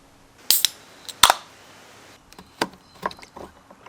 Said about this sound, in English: We're going to start right now by removing that radiator cap.